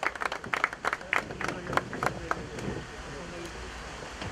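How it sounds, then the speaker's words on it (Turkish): Applause for a handball team's players at a club launch event, scattered sharp claps at first that thin into a quieter, diffuse patter, moderately distant with room noise. "kendilerini alkışlıyoruz ve tebrik ediyoruz"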